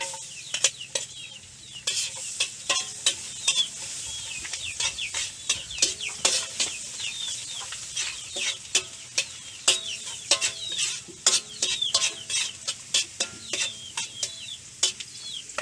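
Garlic frying in a pan while being stirred, a steady hiss broken by repeated scraping strokes, with chickens clucking and a rooster calling in the background outdoors.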